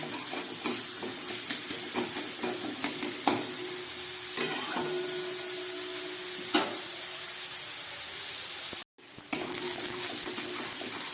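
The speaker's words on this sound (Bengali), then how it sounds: "পেঁয়াজটাকে খুব ভালো করে ভেজে নিচ্ছি" Onion frying well in a pan after potato and capsicum, a continuous close sizzle broken by repeated sharp scrapes and stirring clatters, with a brief dropout near the end before the hiss resumes.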